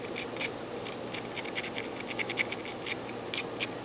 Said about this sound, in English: Nice scraper, huh?